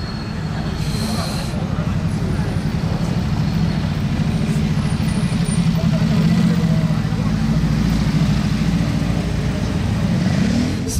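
A Porsche GT3 sports car driving past among traffic at a car gathering, a steady low engine rumble that builds slightly and sustains, with someone talking over it.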